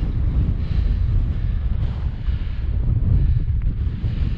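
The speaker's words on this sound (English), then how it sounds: "it's very windy here" Strong wind buffets the microphone in a constant low roar in the Ettrick Valley, Scottish Borders, gusting unevenly throughout with nothing else standing out.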